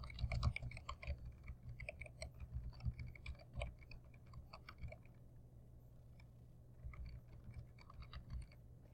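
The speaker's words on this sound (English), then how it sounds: "you just start typing in their name" Someone types a name on a computer keyboard in a stream of soft, close keystrokes with short pauses, quiet against a low steady hum.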